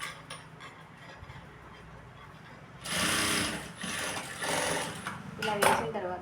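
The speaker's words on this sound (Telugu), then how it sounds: "ఇంకో సైడ్ తీసి టాప్ స్టిచ్ చేయండి నీట్గా" A domestic sewing machine runs bursts of top stitching along a blouse seam, a loud, fast mechanical whirr that starts after a quiet pause and surges in a couple of runs, close to the listener.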